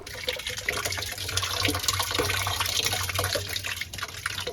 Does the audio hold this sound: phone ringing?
no